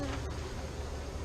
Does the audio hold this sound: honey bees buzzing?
yes